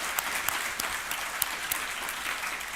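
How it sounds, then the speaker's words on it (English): A conference audience at Rhodes University claps for the community engagement division, a dense and sustained round of applause with a few sharper individual claps standing out. "I'd like you to clap for the community engagement division."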